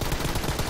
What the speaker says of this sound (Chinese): 右后方有枪声哎，有车。